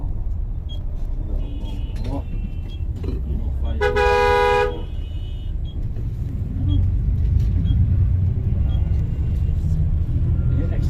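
Road traffic near Madinah, with a steady low rumble of cars and a short burst of horn honking partway through, heard amid a busy street.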